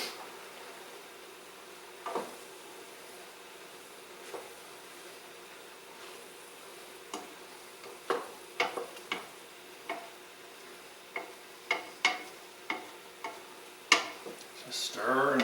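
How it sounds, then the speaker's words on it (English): A long spoon stirring homemade red sauce with seafood and sliced black olives in a pot: faint, irregular scraping and clinking taps that grow more frequent toward the end over a low, steady hiss. "Just stir and stir."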